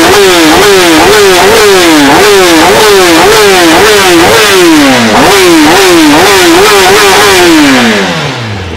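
A 2020 Kawasaki ZX-10R motorcycle with an SC Project exhaust cartridge revs hard and repeatedly, its pitch climbing and dropping in quick sawtooth bursts, very loud and close, before winding down.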